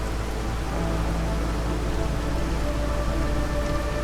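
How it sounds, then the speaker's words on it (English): Acid rain in the video game Against the Storm, a steady, dense hiss of rainfall that stays even and loud throughout, with no voices over it. "Acid rain, right?"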